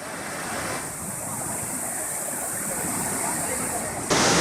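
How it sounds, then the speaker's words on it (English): Waves wash onto the black sand beach below the cliff at Varkala, a steady broadband surf roar filling the whole clip, fairly close and even in level. "Standing on the black beach right now, which is just below the cliff"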